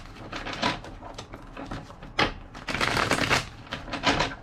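Tarot cards being shuffled by hand, a dense run of papery riffling and slapping bursts with sharp clacks, close and fairly quiet, with no talking.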